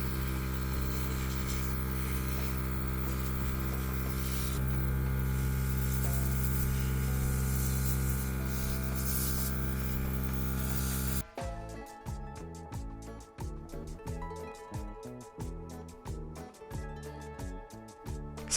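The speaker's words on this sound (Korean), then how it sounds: "부어준 후에는 에어브러쉬로 깃볼을 없애고 넓게 펴줍니다." An airbrush blows air over freshly poured silicone for a bendable dumbbell mold, a steady close hiss with a humming undertone lasting about eleven seconds before giving way to a choppy, pulsing mechanical sound.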